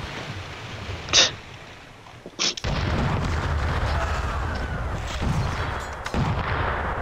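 Two booming cannon shots in a Cossacks video game battle fire a second apart, followed by a sustained rumbling battle din with scattered thuds and crackles.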